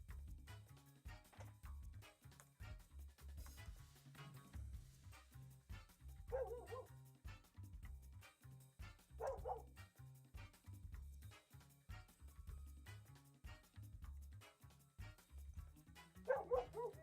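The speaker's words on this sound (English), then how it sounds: "My dog's barking like crazy." A dog barks repeatedly indoors at a distance, fairly faint, with a few sharper yips standing out over continuous low background noise.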